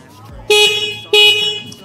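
Single horn of a Bajaj Pulsar N150 motorcycle, two loud close honks about half a second each, separated by a short gap, over a low idle.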